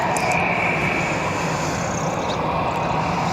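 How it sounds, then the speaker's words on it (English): An Air France Airbus A321 jet at Barcelona airport gives a steady, broad engine roar that holds at an even loudness throughout, with no talk over it. "We've got Air France now, back to Charles de Gaulle, and it's an A321."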